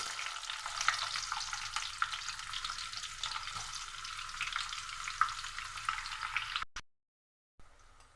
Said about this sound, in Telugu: దాల్చిన చెక్క, లవంగాలు అవి కొద్దిగా ఫ్రై అయిన తర్వాత నెక్స్ట్ ఆనియన్స్